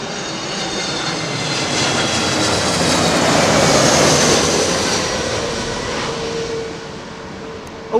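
An Airbus A380 passes at London Heathrow, a loud, broad jet roar that swells and slowly fades over several seconds with no voices.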